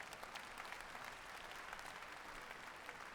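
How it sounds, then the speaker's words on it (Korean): Audience applause at a conference lecture hall event, a steady, even patter of many hands heard faintly and at a distance throughout. "우레와 같은 박수 한번 부탁드립니다"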